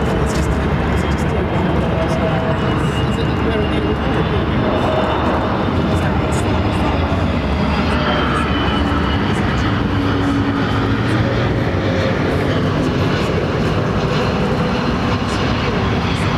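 Jet aircraft at London Heathrow Airport, a steady broad engine roar holding for the full stretch with no clear rise or fade, under talk.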